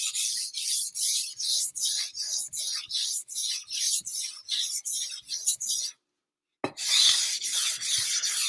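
A knife scrapes rhythmically across a King whetstone in steady, close strokes roughly twice a second, pausing briefly for a moment of silence before the gritty rasping resumes.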